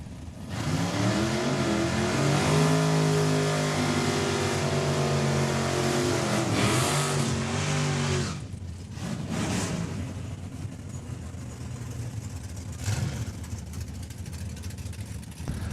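An S10 truck accelerates hard at a drag race at Saskatchewan International Raceway, engine note climbing loud and close through several rising gear pulls before fading into a distant roar and crowd noise.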